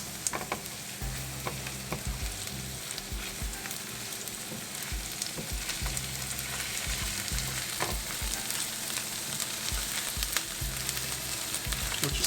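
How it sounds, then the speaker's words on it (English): Chili peppers and ginger paste sautéing in a pan for aloo masala, a steady close sizzle and crackle with intermittent low scraping of a stirring utensil. "We'll just let this saute for another minute or so."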